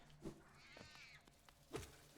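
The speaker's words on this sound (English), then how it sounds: "Why does that spider sound like a cat?" Spider enemy in Hollow Knight giving a faint, cat-like meowing cry, a short wavering call between a few soft thumps and clicks, quiet and alone.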